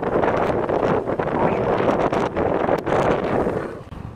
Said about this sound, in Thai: เรากำลังขับรถลงไปทะเลนะคะลมมันก็จะแรงมากเลย